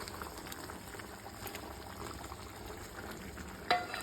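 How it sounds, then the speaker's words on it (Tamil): A pot of Tamil mochai (field bean) kulambu with pidi karunai bubbles at a low, steady boil, a soft continuous simmer heard close but quietly, with one brief louder bump near the end and no voices. "சூப்பராக கொதிச்சிடுது."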